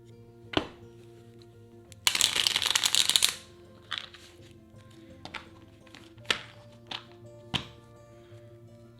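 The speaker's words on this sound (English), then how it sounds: "So we have these shuffled, and then we have the Asia and the base game bonus cards mixed in together too." Cards for the Wingspan board game, including Asia and base game bonus cards, are riffled in one brisk burst, surrounded by scattered soft taps and card handling sounds on a table at close range.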